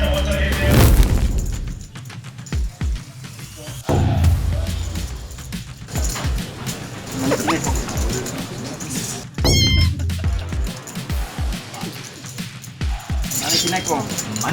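A beckoning-cat meowing sound effect plays during a poker tournament broadcast, with repeated loud meows punctuated by booming hits and chiming over a busy mix of voices.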